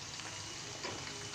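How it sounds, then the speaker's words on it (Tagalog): Chicken pieces fry in hot oil, a steady close hiss and crackle of sizzling with faint bubbling, continuous and fairly quiet. "Magpiprito tayo ng manok."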